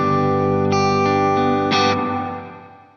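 Sustained guitar chords ring through a Line 6 POD Go's Glitz reverb with modulation off, a loud shimmering wash with a few bright chord changes, then a reverb tail fading out alone.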